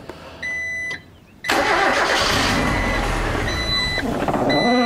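A car engine cranks and catches after a short beeping tone, then settles into a loud, steady idle that runs close by while beeps sound again near the end.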